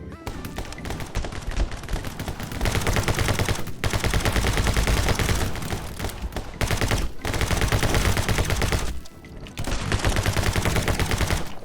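Rapid bursts of video game gunfire from My Friend Pedro, loud and close, coming in dense volleys separated by brief silent gaps.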